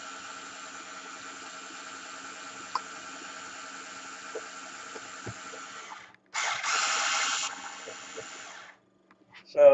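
An electric drill stirring liquid whirs at a constant pitch for several seconds, stops briefly, then runs again louder before cutting out.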